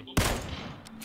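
Gunfire in the video game PUBG: a sudden loud shot bursts after a brief quiet moment and rings out in a decaying rumble, with a fainter second crack near the end.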